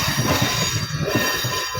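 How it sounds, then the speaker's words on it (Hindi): A railway accident relief medical van train rolls past close by, a loud, dense rumble of wheels on rails with grinding, squealing metallic tones throughout. "accident relief medical van"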